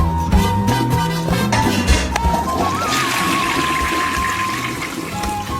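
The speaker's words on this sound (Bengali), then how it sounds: "আমি এক্ষুনি প্লেটটাকে ধুয়ে নিয়ে আসতেছি।" Water splashes and runs steadily as a plate is rinsed and washed, a continuous wet wash with tonal music playing throughout.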